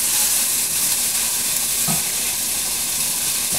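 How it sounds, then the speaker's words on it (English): Vegetables sizzling in a soup pot with a pinch of salt as they are stirred to coat, a loud close hiss of frying with a brief scrape of the spoon. "stir it around. This is called stir to coat"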